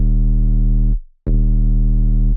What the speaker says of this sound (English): And this is our sub bass.